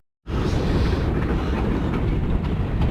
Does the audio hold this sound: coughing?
no